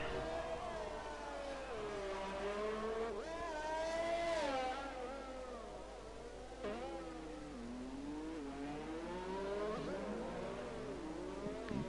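A Williams Formula One car lapping Monaco in a racing video game, its high-pitched engine wailing as it rises and falls through revving, braking and short bursts of acceleration around tight corners.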